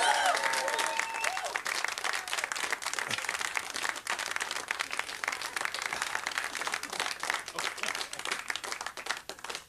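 A television studio audience applauds a world whistling champion, with sustained, dense clapping that holds steady for the whole stretch and a host's voice briefly over it at the start.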